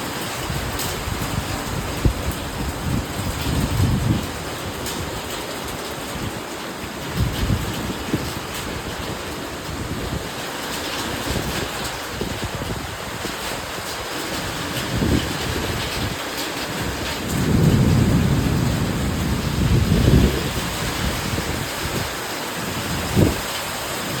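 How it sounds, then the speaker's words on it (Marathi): Heavy first monsoon rain pours down with wind and thunder, making a dense, continuous roar broken by deeper rumbling gusts that swell and fade several times. "वारा शांत झाला बघा आणि पाऊस खूप जोरात आहे."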